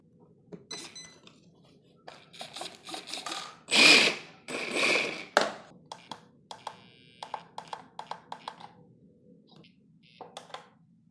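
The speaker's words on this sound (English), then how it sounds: "So now I'll just connect the battery and center the" An RC steering servo on an LC Racing EMB monster truck whirs and clicks in short mechanical bursts as it centers after the battery is connected, close and intermittent.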